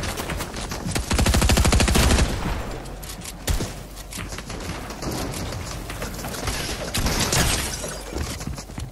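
Fortnite gunfire, a loud burst of rapid automatic shots followed by scattered single cracks and further bursts, close and busy throughout.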